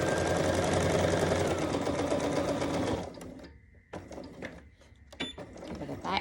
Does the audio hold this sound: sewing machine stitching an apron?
yes